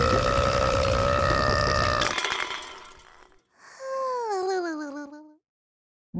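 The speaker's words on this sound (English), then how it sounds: "Little Blue drank too much and let out a huge burp." A huge, drawn-out burp from a cartoon character who drank too much water after eating spicy food, heard near and loud as a long voiced belch, followed by a short falling, warbling tail.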